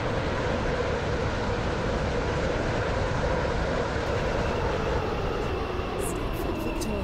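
A steady rumbling train in the video game SCR runs continuously, a dense low drone with faint clatter, no voices, loud and close throughout.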